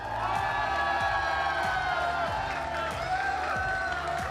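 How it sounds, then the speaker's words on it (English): Arena crowd at the Pokémon North America International Championships cheering for the new champion, a dense continuous roar of whoops and applause, loud and sustained, with an amplified voice faintly mixed in. "Come on, I know y'all are gonna cheer for him."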